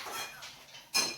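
Cooking pot and utensils clatter briefly in a home kitchen while sukhdi is made, with soft metallic rattling followed by one louder, sharper clink near the end.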